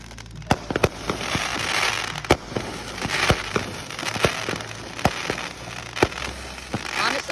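Fireworks going off close by in rapid, irregular succession, each sharp bang followed by crackling and fizzing, with steady sparkling hiss between bursts and faint voices in the background.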